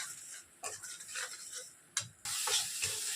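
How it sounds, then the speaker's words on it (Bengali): Poppy seed paste stirred in a pan with nigella seed tempering, heard as soft scraping and sizzling with a few light knocks, growing into a louder steady sizzle near the end, no speech. "আমি পোস্তটা ঢেলে নিচ্ছি। পোস্তটাকে একটু নাড়াচাড়া করে নিচ্ছি।"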